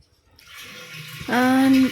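Water from a household supply pipe starts to flow into a drum or vessel, rising from a faint trickle to a loud steady gush in the second half.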